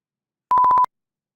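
A rapid run of five short, clear electronic beeps in one steady pitch, loud and close, with silence before and after.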